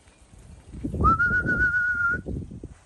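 A single sustained racing pigeon whistle holds one steady tone for about a second over a low background rumble.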